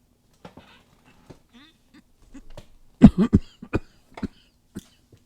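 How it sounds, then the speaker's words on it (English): Several sharp, harsh coughs come in a burst close by, preceded by scattered quieter throat-clearing sounds and small noises in a quiet room. "Coughing."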